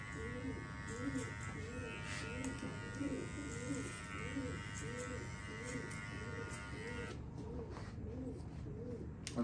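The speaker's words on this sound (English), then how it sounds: "Two owls living up there." A pair of owls call from their nest in a soft, evenly spaced series of low hoots, repeating steadily beneath the constant buzz of electric hair clippers.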